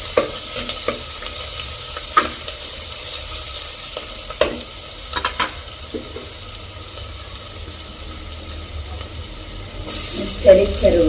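Onions and dried anchovies fry quietly in a pan, a soft continuous sizzle broken by occasional stirring clinks and scrapes, with a burst of louder clattering near the end.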